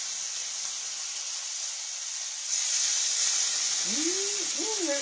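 Catfish fillet frying in butter in a pan, a steady soft hiss and sizzle that grows slightly louder partway through, with a few faint tonal squeaks near the end.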